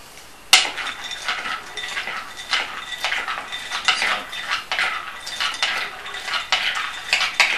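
Blanched almonds clink and scrape against a dish as they are tipped in and stirred with a dash of tea, a close run of irregular metallic taps and rattles with no talking.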